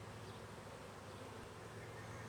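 Honeybees buzzing steadily during a beekeeper's second-month hive inspection, a close, continuous swarm drone with no pauses.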